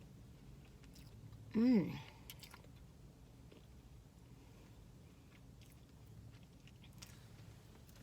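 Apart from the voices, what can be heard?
biting and chewing a Starbucks holiday treat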